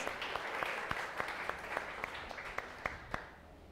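A church congregation claps for Jesus during a sermon, a quiet, somewhat distant patter of applause with a few sharp individual claps standing out, fading toward the end.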